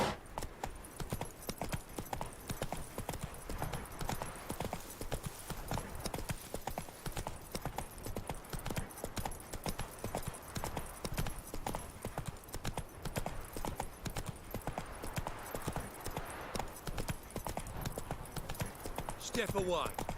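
Roach, the horse in the video game The Witcher 3, gallops with rapid, continuous hoofbeats for the full twenty seconds, while voices talk over the running hooves.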